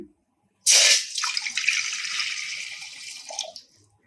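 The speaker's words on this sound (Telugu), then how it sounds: "ముందుగా నానబెట్టుకున్న సగ్గుబియ్యాన్ని 1 గ్లాస్ వాటర్ పోసుకొని" A glass of water is poured onto soaked sago in a pan on the stove, a sudden splashing gush that starts after a brief silence, then settles into a steady trickling pour before tapering off.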